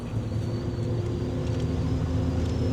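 A car engine drones steadily while driving, a constant low rumble with road and wind noise and no clear change in pitch.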